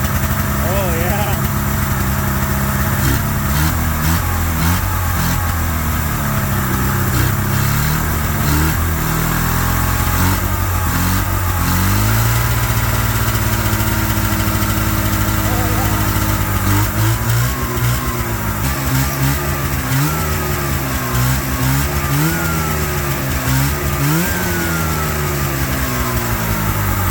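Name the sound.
old Ski-Doo snowmobile engine running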